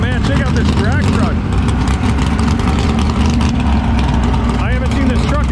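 A drag truck idles at a drag strip, its low, steady engine rumble loud and constant beneath people talking nearby.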